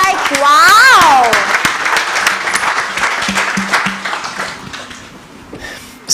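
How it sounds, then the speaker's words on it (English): Audience at an interactive session on GreenRide2.0 bursts into applause, clapping dense and loud at first then thinning out, with a voice talking excitedly over the clapping. "Can we clap for Virendra because he's a marathoner"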